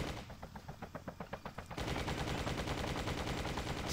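Gunfire in the open-world action game Just Cause: a rapid string of evenly spaced shots, then a denser, louder barrage of automatic fire that runs without pause to the end.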